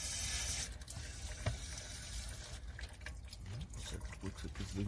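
Water squirted into the transmission area of a Nissan NX, a close hissing spray at first that shifts to irregular splashing and trickling, with a few faint clinks.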